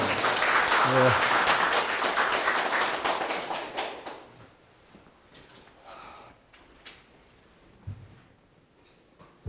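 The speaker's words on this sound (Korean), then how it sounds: "박수로 하겠습니다." Audience applause fills the opening of a humanities lecture in Gyeongju, loud and dense for about four seconds before thinning to scattered claps and faint room noise, with a brief bump near the end.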